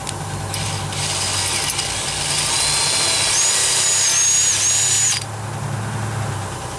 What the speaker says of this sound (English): Now let's drill these out.